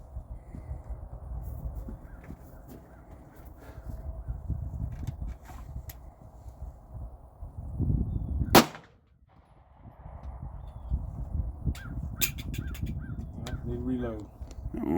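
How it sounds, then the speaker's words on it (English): A T-Saw Stingray single stack 1911 pistol fires sharp gunshots outdoors, one loud close crack standing out amid fainter scattered shots, with people talking and crows cawing in the background. "I'm shooting my new T-Saw Stingray. It's a single stack 1911."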